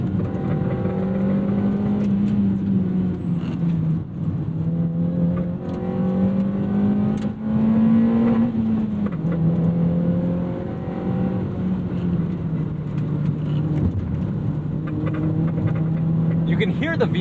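A 2009 Honda Fit's four-cylinder engine revs hard through the gears into VTEC, a loud, close, rising and falling drone with shifts and steady high-rpm pulls throughout.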